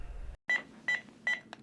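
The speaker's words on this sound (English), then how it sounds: "Alarm acknowledged." A home pill reminder alarm gives three short electronic beeps at an even pace, fairly quiet and heard alone.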